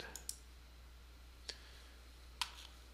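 A computer mouse clicks three or four times at irregular intervals, sharp faint ticks close by over a low steady hum.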